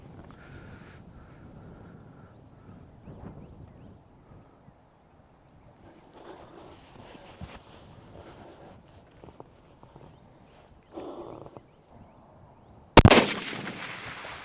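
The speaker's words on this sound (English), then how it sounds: "Give me a good shot" A rifle fired at a 500 yard target: a single loud, sharp shot cracks near the end of an otherwise quiet outdoor stretch with wind and faint shuffling.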